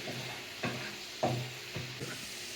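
Garlic frying in oil in a pan for aglio e olio pasta, a steady soft sizzle broken by several short stirring scrapes spaced about half a second apart, close and with no talking.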